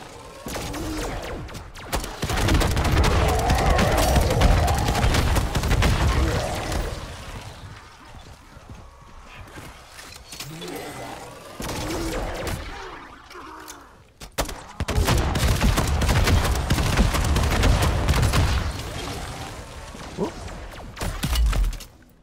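Dense bursts of gunfire from the video game Modern Warfare Zombies come in two long, loud volleys separated by a quieter lull, with impacts and crashes mixed into the shooting.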